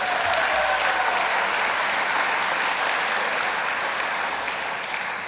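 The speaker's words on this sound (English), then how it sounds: "I think that deserves a round of applause." Sustained audience applause at a literary awards ceremony, a dense even wash of many hands clapping at steady loudness throughout, with no voices over it.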